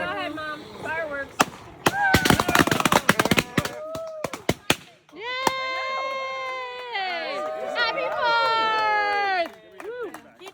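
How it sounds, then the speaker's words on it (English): Sharp crackling bangs and rapid popping bursts of Fourth of July fireworks go off in a quick flurry, with excited voices talking and shouting over them nearby. "Fireworks."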